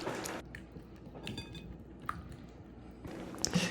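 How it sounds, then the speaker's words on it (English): Rice vinegar dressing being whisked in a bowl, with soft clinks and scrapes of a utensil against the bowl in short bursts at the start and near the end, a quiet stretch between. "I'm just going to whisk this together"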